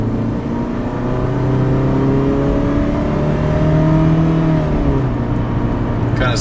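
A 1998 Honda Civic with an automatic transmission and a faulty speed sensor accelerates steadily, its engine note climbing and then dropping as the gears change, loud and close from inside the car.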